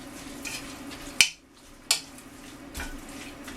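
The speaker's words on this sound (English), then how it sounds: "All this is going to get stirred together." Curry powder and a teaspoon of garam masala stirred together in a pot for coconut curry chicken soup: soft scraping stirs with a few sharp clinks of a utensil against the pot, close and fairly quiet.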